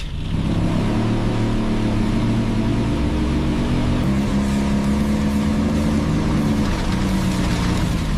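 A truck driving forward fast and bouncing, heard as a loud, steady engine roar with low rumbling and broadband road noise throughout, no talking.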